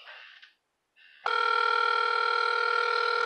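An unanswered outgoing phone call: after a short tone and a pause, a steady electronic ringback tone sounds loud and close for about two seconds, with no one picking up.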